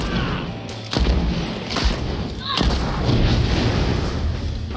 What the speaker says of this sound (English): Use this gas gun.